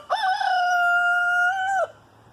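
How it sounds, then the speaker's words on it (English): A rooster crows once, a loud, near, sustained harmonic call lasting under two seconds, on a homestead where chickens are being fed sunflowers; no talking. "So here I am feeding the chicken fodder, the sunflowers to the chickens."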